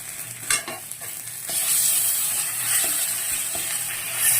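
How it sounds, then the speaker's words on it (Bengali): Ground cumin paste hits hot oil in a pan with onions and fries with a steady, loud sizzle, punctuated by a few scraping stirs of a utensil early on. "এখন জিরে বাটাটা দিয়ে দেবো।"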